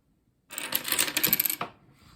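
A row of dominoes topples in a quick run of sharp, bright clicks lasting about a second, close and fairly soft, then ends with a few scattered taps.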